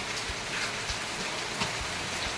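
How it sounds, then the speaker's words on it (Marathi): Steady morning rain in Latur patters across a surface, a dense continuous hiss with occasional heavier drops and no voices. "लातूर आणि लातूरचा पाऊस बघा सकाळी सकाळी नऊ वाजता"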